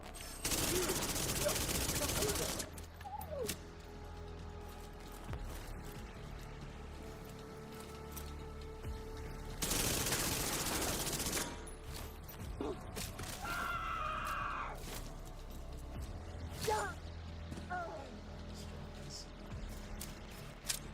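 SMG and shotgun fire in The Division 2 during the Battle for Brooklyn mode, with two long loud bursts of rapid gunfire and scattered single shots and game effects between them.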